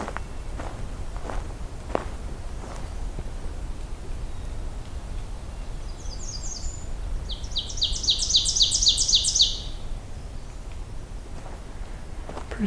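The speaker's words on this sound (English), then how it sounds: "Sounds like there's a pine warbler somewhere nearby too." A fast, even trill of pine warbler song rings out mid-distance, a short phrase followed by a longer one, over soft footsteps on a trail.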